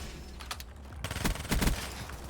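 Rapid bursts of video game gunfire from a hard-recoiling gripped weapon crack out in clustered volleys, sharp and fairly close, with a brief lull before a louder run of shots.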